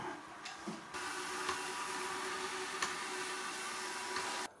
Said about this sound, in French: Là c'est un test classique en puissance d'aspiration faible.